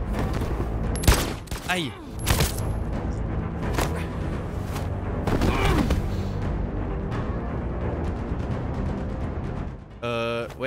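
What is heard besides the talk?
gunshots in the video game Detroit: Become Human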